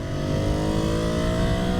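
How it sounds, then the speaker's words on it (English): A 2020 Ducati Scrambler Sixty2 motorcycle engine drones loud and close while riding, holding a steady, even pitch throughout with no pauses. "Engine sounds like it's roaring."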